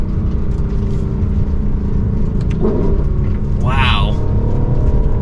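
Smooth, quick gear shifts from a 2024 Lexus LC500 accelerating, its engine rumbling steadily and close under the cabin. A brief sweeping tone rises near the end. Someone speaks once.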